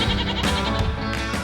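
Goats bleat continuously and loudly at a crowded livestock market in Prambanan, Klaten, Central Java, several animals overlapping in a dense, close chorus.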